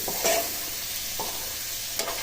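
Brinjal curry stirred in a pan, village style, with a few distinct scraping strokes over a soft, constant frying hiss, close and fairly quiet, no talking.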